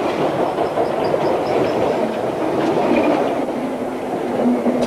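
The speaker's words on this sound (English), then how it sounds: "the trains, as they come through, make a great sound" A train rumbles steadily past on a London rail track, a loud continuous roar of wheels and carriages with faint clicking from the rails throughout, close and unbroken, with no voices.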